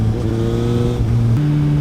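A Suzuki GSX-S750 motorcycle being ridden with traction control switched off, its engine note loud and close, holding steady then stepping up in pitch through a gear change, with no talking.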